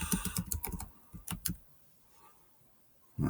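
Quick bursts of computer keyboard typing, a cluster of rapid clicks followed by a few more keystrokes, then a quiet pause.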